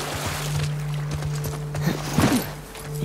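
Horse hooves clip-clop steadily in The Last of Us Part II, a moderately near rhythmic stream of hoofbeats with a brief whinny-like sound near the end.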